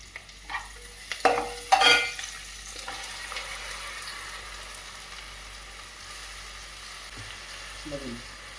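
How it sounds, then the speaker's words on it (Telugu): Onion pieces fry in oil for an Andhra-style pond fish curry, a soft continuous sizzle with a few early spatula knocks and scrapes against the pan. "ఉల్లిపాయ ముక్కలు వేగించుకుని తర్వాత మిగతా దాన్ని పేస్ట్ చేసి వేద్దాం."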